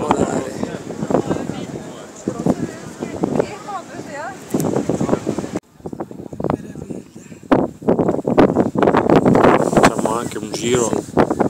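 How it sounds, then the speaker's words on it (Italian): Strong wind buffets the microphone at a lighthouse on the southern Norwegian coast, gusting roughly in bursts while someone talks over it. "C'è un vento pazzesco."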